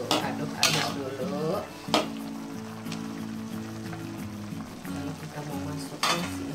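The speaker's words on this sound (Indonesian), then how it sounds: "Ini sudah mendidih. Tuh, aduk-aduk dulu." A spoon stirs a boiling pot of broccoli with garlic, scraping and clinking against the metal in bursts over a steady bubbling simmer, close up with no talking.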